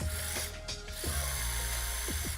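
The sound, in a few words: motorized piston ring filer grinding a ring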